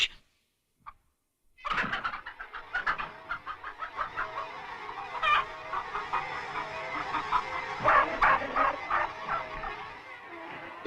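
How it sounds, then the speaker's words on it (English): Hens clucking in the 1954 animated film Animal Farm, a busy overlapping chorus of quick, rhythmic clucks and squawks that starts after a brief silence and continues steadily at moderate volume. "The chickens seemed to remember old Major saying that their eggs should never be taken from them"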